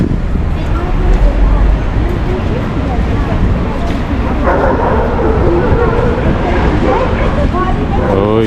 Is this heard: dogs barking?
yes